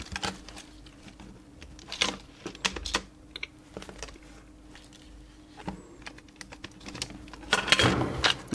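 Homemade gamepad buttons are pressed with the rubber mat removed, producing irregular, close plastic clicks and rattles in uneven clusters, growing busier toward the end.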